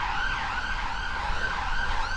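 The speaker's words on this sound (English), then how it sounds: "there's a fire engine, police car," An emergency vehicle siren, a fire engine or police car, passes along a street near the Physic Garden on Edinburgh's Royal Mile, wailing steadily at moderate distance, with no talk.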